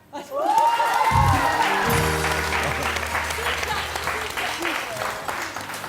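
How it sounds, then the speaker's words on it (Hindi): A TV morning-show studio audience breaks into sustained applause after a brief shout, clapping steadily and loudly before tapering slightly toward the end. "इसके बाद तालियां होती हैं।"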